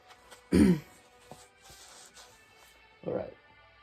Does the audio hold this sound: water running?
no